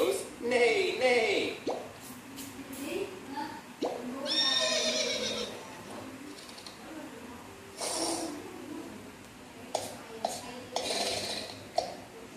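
A voice imitating a horse's neigh, with a toddler and an adult talking around it and occasional light clatters of dishes in a home.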